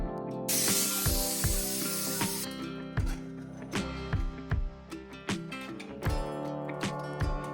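A pressure cooker cooking vegetable soup releases a loud, sharp jet of hissing steam, then settles into a rhythmic series of rattling puffs and clicks as the weight jiggles, close by.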